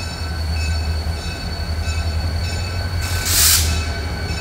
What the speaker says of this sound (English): they're bringing this locomotive around the side